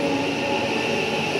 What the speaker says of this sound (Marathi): आणि एवढ्यातच आली आमची पर्पल लाईनवाली मेट्रो.